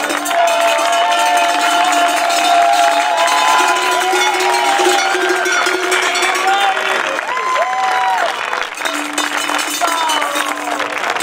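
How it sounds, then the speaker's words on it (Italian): Lively crowd at the Villacidro Skyrace awards ceremony, with clapping, cheering, whistles and cowbells filling the air continuously while voices call out over the din. "grande applauso per Mile"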